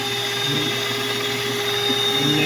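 A blender whirs steadily as it mixes a graham dessert with nasal cream, a constant high-pitched motor whine with a grinding undertone, heard alone.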